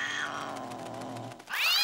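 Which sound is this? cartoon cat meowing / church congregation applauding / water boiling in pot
cartoon cat meowing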